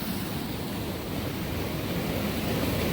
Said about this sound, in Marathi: 3 मोठ्या पाईपातून पाणी